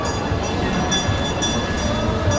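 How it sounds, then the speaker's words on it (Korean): A train pulls into a station in the Philippines, a steady broadband rumble of wheels and rail noise that stays loud and constant throughout, with no voices. "기차가 오네요."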